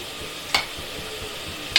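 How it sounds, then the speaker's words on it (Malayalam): Chopped onions sauté in a pan with a splash of salt water, giving a steady low frying hiss broken by two sharp spatula scrapes. "ഇനി നമുക്ക് നന്നായിട്ട് ഈ സവോളയുടെ നിറമൊക്കെ മാറുന്ന വരെ ഒന്ന് വഴറ്റിയെടുക്കാം"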